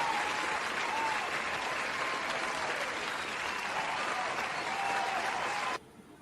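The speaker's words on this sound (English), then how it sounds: "Give Ed Jones a round of applause, ladies and gentlemen." A live audience applauds steadily for an introduced guest, a dense, even roar of clapping that holds for several seconds and then cuts off abruptly.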